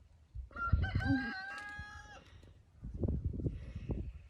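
A rooster crows once, fairly close and clear, its call rising and holding before trailing off, with clucking from other fowl and low rustling afterward on a cold autumn farmstead in Canada.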